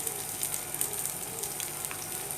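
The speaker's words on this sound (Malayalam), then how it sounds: "2 പച്ചമുളക് ചെറുതായിട്ട് അരിഞ്ഞത് ഇട്ട് നന്നായിട്ട് വഴറ്റണം." Chopped onion, ginger and green chillies sautéing in a pan for Kerala-style moru kaachiyath, a steady close sizzle and crackle with no talking.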